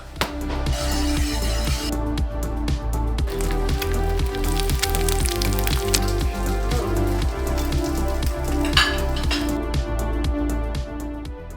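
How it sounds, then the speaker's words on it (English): Steady rain falls outdoors on a wet morning, a continuous dense patter of drops on hard surfaces, close and fairly loud, with no voices over it. "a little wet and rainy out there this morning"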